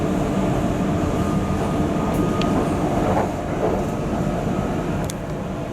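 An Amsterdam metro train pulls into a station with a loud, continuous rumble of wheels and rail noise, then a few faint high squeals as it slows.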